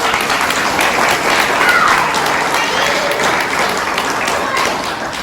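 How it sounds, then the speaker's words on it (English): Steady, dense applause from an audience at a 2022 dairy ambassador ceremony, loud and sustained throughout, with faint voices mixed into the crowd. "Can we just give them a round of applause, please?"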